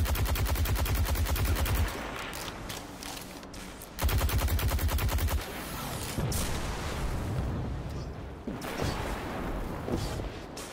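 Cyclops enemies in the Destiny 2 game fire slow heavy bursts of rapid gunfire in loud clusters. The blasts are separated by pauses and trailed by scattered booms and lighter shots.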